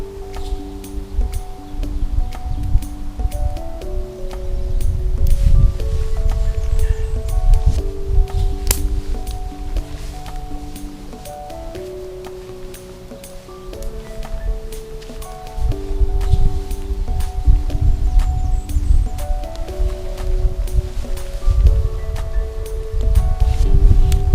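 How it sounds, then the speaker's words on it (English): Steady wind gusting outdoors on a trail in Algonquin Provincial Park, with rustling and buffeting against the microphone, continuous throughout, with faint tonal hums underneath. "It's pretty windy out there"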